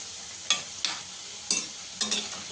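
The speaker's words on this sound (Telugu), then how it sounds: "ఇది మీడియంలో ఉండేది చక్కగా ఫ్రై చేసుకోవాలి" Onion pakoda fries in hot oil with a soft, continuous sizzle, while a spoon stirs through it in four distinct scraping strokes at close range.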